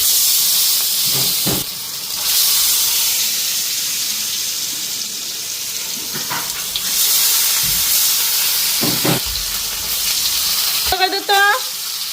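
Fish fries in hot oil with a steady, loud sizzle throughout, broken by a few clanks and scrapes of a utensil and a brief high squeak near the end.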